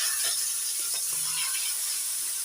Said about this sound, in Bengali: এবার চিংড়ি মাছগুলো তেলের মধ্যে দিয়ে দিচ্ছি